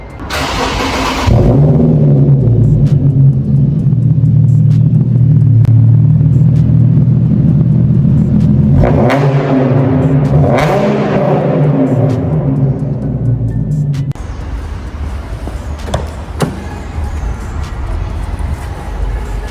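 A Nissan 370Z fires up loudly from the starter, settles into a deep rumbling idle, then gives a couple of sharp revs before dropping to a quieter idle.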